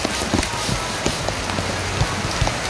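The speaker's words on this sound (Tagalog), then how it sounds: "Naririnig nyo naman siguro malakas yung ulan." Heavy rain pours down during a thunderstorm, a dense, loud, steady hiss with scattered pattering drops striking nearby surfaces, continuous and without talk.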